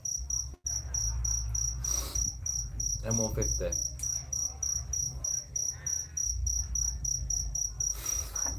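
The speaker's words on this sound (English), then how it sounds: "Funny, that cricket noise." Crickets chirp in a steady, rapid pulsing trill that runs through the whole stretch beside the Mekong in Thailand, while someone talks over it with low rumbling background noise.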